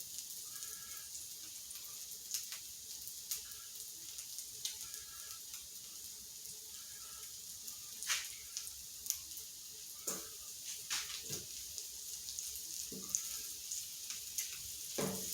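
Smash burgers sizzle on a flat griddle in a quiet, steady hiss, with scattered sharp pops and spatula clicks and scrapes breaking in now and then, and no one talks.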